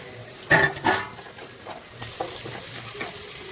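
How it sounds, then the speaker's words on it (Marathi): Chopped onion sizzles in hot oil with a sharp burst as it hits the pan, then settles into a quieter steady fry with light stirring, for veg biryani. "मी अजून 1 कांदा मोठा चिरून घेतलेला आहे आणि तो त्यामध्ये आपण तळण्यासाठी टाकलेला आहे"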